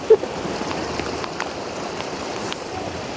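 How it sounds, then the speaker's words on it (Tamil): Rain falls in a mountain village, Naddi, as a steady soft hiss with scattered faint drips and taps close by, continuous throughout. "மழை பெய்யுது"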